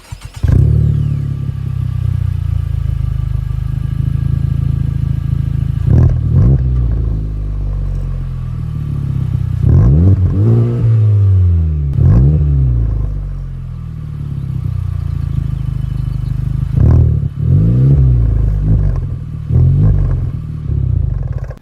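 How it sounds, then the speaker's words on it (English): A Honda Civic fitted with a MagnaFlow catback exhaust idles with a low, steady drone, then blips its throttle in several sharp revs that rise and fall, heard loud and close without voices. "The second exhaust is from MagnaFlow."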